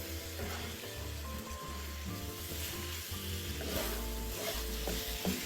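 Water splashed into a hot pan of shiitake mushrooms picking up leftover pork-rib marinade, hissing and sizzling steadily with occasional stirring scrapes, close and continuous.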